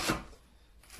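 Two quick knife chops through onion on a cutting board, one at the start and one at the end, with a quiet pause between them.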